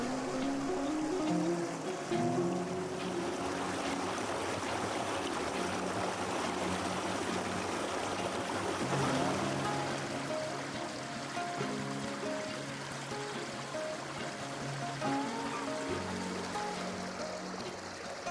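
A woodland brook on a preserve flows steadily, a continuous close-up rush and burble of water that holds an even level throughout, with no voices.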